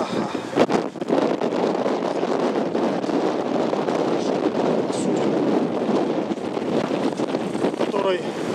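Strong wind on a boat trip to Comino island, Malta, buffets the microphone in a steady loud roar throughout, with faint voices underneath.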